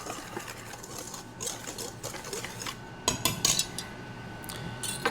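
Dry ingredients for brown butter corn bread, including white sugar, being mixed in a bowl, a quiet rapid whisking rattle with sharper clinks of utensil against bowl toward the end, no talking.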